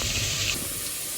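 Meat goes into a hot pot while cooking Sylheti akhni pulao, giving a loud, steady sizzling hiss that fills the moment with no voices.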